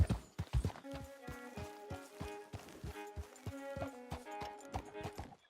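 Horse hooves clip-clopping at a steady walking rhythm in Red Dead Redemption 2, close and clear over soft game music, with a few louder thumps at the start and no talk.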